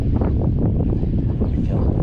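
Wind gusts across a lakeside shore on Lake St Clair, a constant loud rush buffeting the microphone with a low rumbling roar throughout.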